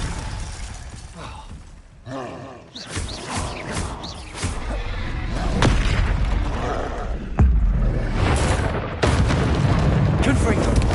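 Spells are cast in rapid succession in the wizarding game Hogwarts Legacy, bursting as repeated booming blasts and crackling impacts. The layered effects fill the scene continuously and get louder toward the end.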